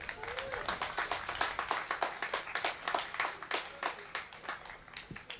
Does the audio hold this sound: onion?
no